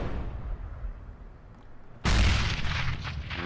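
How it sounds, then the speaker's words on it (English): An HE grenade in a first-person shooter goes off in mid-air with a sudden loud boom after a quieter stretch of low rumble, then ringing, crackling decay with some following gunfire-like bursts. "He tried to throw the HE over, but he just got a sky explosion."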